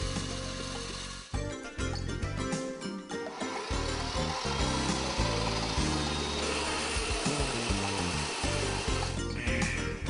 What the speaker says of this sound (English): Begin cutting when the power tool has reached a sufficient rotation speed.